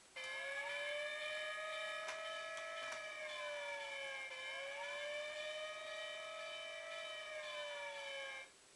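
Electronic toy siren from a DX Siren Builder wailing up and down in smooth repeated sweeps, steady and continuous for several seconds, close and clear with no talking.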